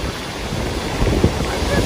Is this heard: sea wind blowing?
yes